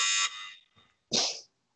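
A harsh electronic quiz game buzzer sounds briefly, then a second short buzz follows after a quiet pause.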